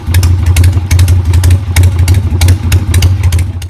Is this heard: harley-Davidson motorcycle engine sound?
yes